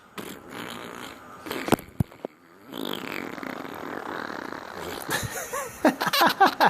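A bird imitates a fart noise in several short bursts, with a person's voice and laughter around it, the sounds growing louder and more frequent toward the end.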